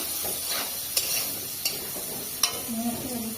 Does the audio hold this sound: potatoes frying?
yes